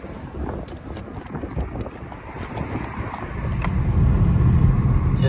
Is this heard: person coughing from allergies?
no